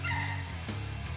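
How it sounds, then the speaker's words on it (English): Small wiener dogs yip and bark in short bursts, close and fairly quiet, with a brief whimpering quality amid light background noise. "Yep, barking will work."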